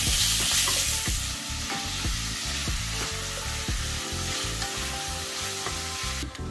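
Thick-sliced bacon sizzles and fries in a pan, a steady dense crackle running close and loud throughout, broken by a few regular tonal clinks or scrapes.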